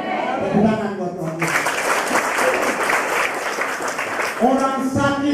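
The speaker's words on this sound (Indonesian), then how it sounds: "Tepuk tangan buat Tuhan." Congregation at a church service in the Pondok Bambu women's prison bursting into applause for God, a loud burst of clapping lasting about three seconds between a man's spoken words.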